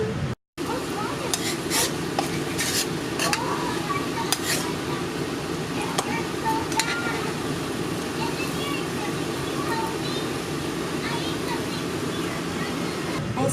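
Vegan crunch wrap filling sizzles steadily in a hot pan, a continuous frying hiss with occasional utensil clinks and scrapes, close and fairly loud throughout.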